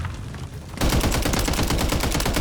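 Rapid automatic gunfire in the video game Warzone rattles out in a fast, steady burst, loud and close, after a brief moment of quieter background noise.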